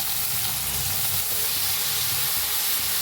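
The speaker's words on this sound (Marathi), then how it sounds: "मिरची चांगली भाजली, त्याच्यात घालूया बटाटो." Potatoes hit hot oil with frying green chillies, a loud steady sizzle and hiss filling the short moment without pause.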